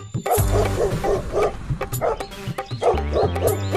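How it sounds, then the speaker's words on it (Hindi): A tethered dog barks in a quick series of short yips close by, with a few pauses between bursts. "सुमन के पिता इधर उधर देखते हैं तो उन्हें पास में ही कुत्ता बंधा हुआ दिखता है।"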